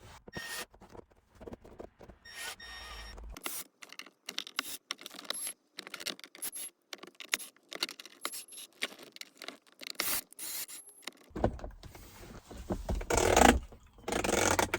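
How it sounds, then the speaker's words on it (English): Screws being driven and tightened by hand while a wireless charging pad is installed in a GM Silverado/Sierra truck interior; scattered close clicks, scrapes and rattles come in short bursts with quiet gaps, growing busier and louder near the end. "now I'm going to finish tightening these screws down"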